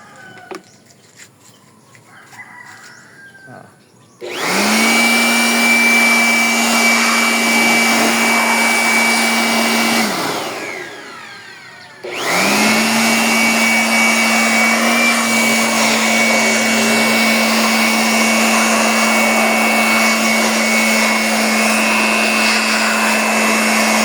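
A portable air blower from a car wash set whirs loudly up to speed, runs steadily for several seconds, cuts off briefly, then starts again and keeps running close by.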